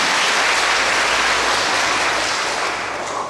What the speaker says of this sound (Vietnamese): Cho một tràng pháo tay lớn hơn xin ạ.